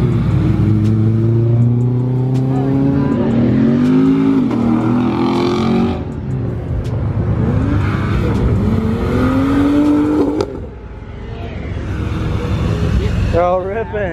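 Cars including a C8 Corvette revving hard at a car meet, loud nearby engines climbing and falling through repeated throttle blips with sharp pops and crackles near the end, while people talk and shout over them.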